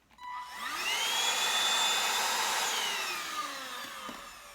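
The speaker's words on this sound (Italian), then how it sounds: "questo è l'aspirapolvere ricaricabile" A SilverCrest cordless cyclone vacuum cleaner from Lidl switches on, spinning up to a loud high-pitched whine that holds steady for several seconds, then eases slightly as it winds down near the end.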